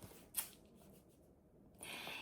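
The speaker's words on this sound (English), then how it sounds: "we are going to shuffle the cards" Tarot cards shuffled by hand in a quiet room, a short crisp riffle near the start followed by a softer, longer rustle of cards toward the end.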